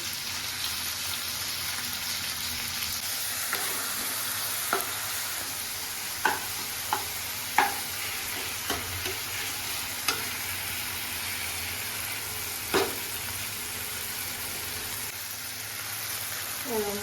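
Onions and tomatoes with salt sizzle steadily in a pan for a home-made butter chicken, with scattered clinks and scrapes of stirring breaking through the constant close frying hiss.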